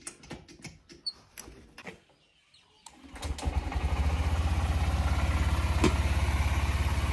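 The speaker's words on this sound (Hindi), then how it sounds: "हो गई जी बाइक स्टार्ट" A motorbike engine being cold-started: a few close clicks and rattles, then after about three seconds it catches and settles into a steady, loud, even idle.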